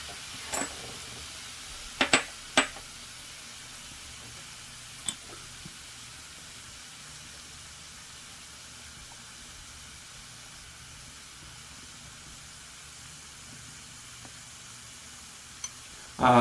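Jumulleok marinated meat grilling on a hot pan, a low, steady sizzling hiss that runs throughout, broken by a few sharp utensil clinks.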